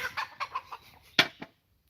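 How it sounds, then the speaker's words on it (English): Chickens cluck in a short run of quick, throaty notes, then two louder, sharper calls before falling quiet, close and heard alone on a farm. "Man, they're clucking."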